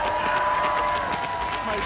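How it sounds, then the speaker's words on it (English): Loud crowd at a Miami Beach Pride concert applauding and cheering for dancers, a dense continuous roar of clapping and shouts over a sustained musical tone, close and filling the space. "I want to give a really gigantic, humongous round of applause for my dancers"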